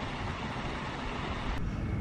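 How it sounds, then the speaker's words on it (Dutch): Small tourist train at a wildlife park in Han, a steady rumbling roll with low clatter, continuous and fairly close, no one speaking over it. "We sluiten af met het treintje."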